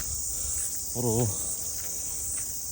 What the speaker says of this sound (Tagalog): kuliglig lang tapos mga huni ng ibon na maririnig mo.